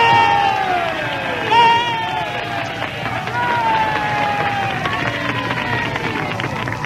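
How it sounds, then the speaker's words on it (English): A theater audience cheers the Prince of Wales at the Ziegfeld Follies in New York, a dense, sustained roar of many voices with shouts and whistles rising above it, steady and loud throughout. "Listen to that crowd."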